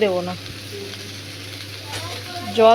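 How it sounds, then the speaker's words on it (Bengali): Soft sizzling of food frying in a pan, close by and steady, with a voice speaking briefly at the start and end. "এইভাবে শুকনো ভাজা হবে"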